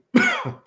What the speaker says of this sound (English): Hold on, I got a cough. Let me get this cough.